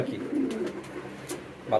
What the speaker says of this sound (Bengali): বাকি আমাদের এই কবুতরটা দেখেন